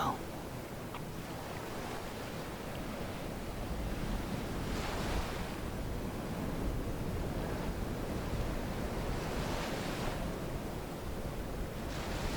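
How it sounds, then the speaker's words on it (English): Ocean waves washing onto a shore, a steady low roar that swells gently every few seconds, with wind noise over it. "I really love the waves"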